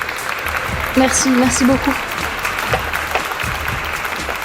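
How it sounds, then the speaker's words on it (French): Audience applause at a pet pageant rises in a broad steady wash, with a voice speaking briefly over the clapping early on and the crowd noise continuing throughout. "Mesdames et messieurs, applaudissez tous Kitty bien fort."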